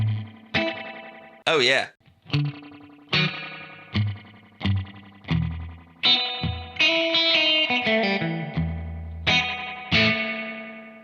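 Electric guitar through a Keeley Hydra or Strymon Flint spring reverb pedal, its colour control turned up for a bouncier, springier tone: a run of separate plucked notes and chords with a splashy decaying tail, one brief spoken exclamation in the middle.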